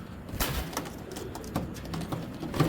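Several pigeons, a collection of large Giribaz pigeons such as Silver, Teddy and Army types, coo softly in a loft, with low throaty burbles and short rustles close by.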